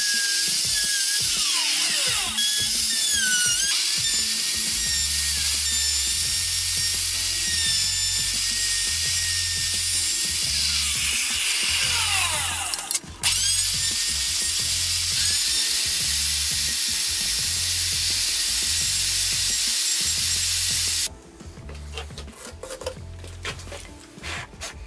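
Power tools working timber bolted onto the arm of a wicker garden bench, a high-pitched whining router carving a freehand cup-holder groove, with pitch sweeps as it cuts and a drop in noise near the end, no talking.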